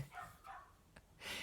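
Dogs bark a few times in short, faint bursts somewhere in the house, muffled and distant against a quiet indoor background.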